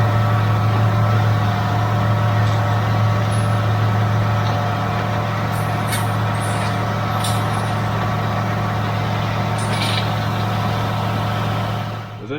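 A tractor fitted with a front-mounted topper runs steadily in a field during ploughing work in Hampshire, a loud continuous engine drone with a low hum throughout and occasional higher hissing bursts, with no talk.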